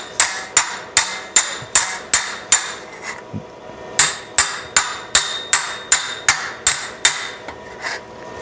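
Hammer and dolly pounding a metal patch panel near a car's headliner bow: steady, evenly spaced ringing strikes, about two per second, with one brief pause before the rhythm resumes, close and loud with no talking.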